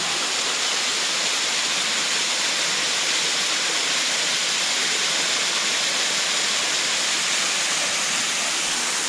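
A steady, loud roar of a waterfall in a forest, broadband rushing water without pause.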